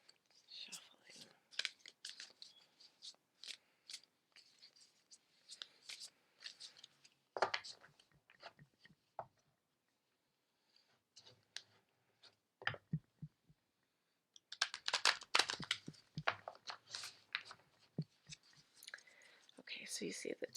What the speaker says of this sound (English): Twisting the cards up changing around all the positions,